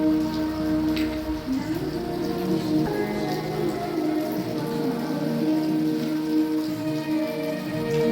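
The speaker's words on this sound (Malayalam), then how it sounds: "നല്ല മഴയാണ്" Heavy rain pours steadily and loudly, a dense continuous hiss of drops striking the ground and nearby surfaces.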